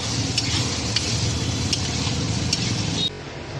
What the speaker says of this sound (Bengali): একটু নেড়ে চেড়ে নামিয়ে নেব।